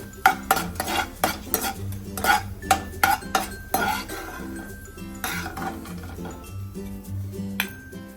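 Nuts and dry fruits stirred in ghee in a pan over medium flame, a spoon scraping and clinking against the metal in irregular bursts, close and fairly loud, easing off toward the end.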